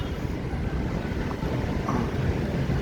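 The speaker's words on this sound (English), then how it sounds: "Oh, it's so windy." Strong wind blowing outdoors, buffeting the microphone with steady low rumbling gusts throughout, loud and close with no talking.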